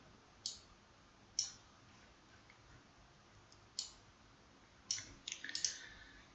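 Sharp, quiet mouse clicks at a computer while editing a picture in a Word document, a handful of isolated clicks with a quick cluster near the end, close and alone over faint room hiss.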